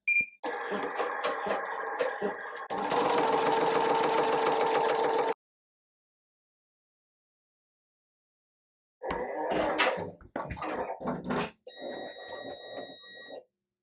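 A Smartstitch embroidery machine sews a tack-down stitch for a patch: stretches of steady mechanical whirring and rattling, a long silent pause, then shorter bursts of stitching and a couple of electronic beeps.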